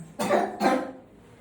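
Two quick coughs in a row, close and fairly loud, followed by quiet.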